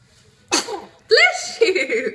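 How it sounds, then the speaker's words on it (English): A one-month-old baby lets out two quick little sneezes a moment apart, short sharp bursts followed by small breathy squeaks and fussing sounds, close and clear against a quiet room. "2 sneezes."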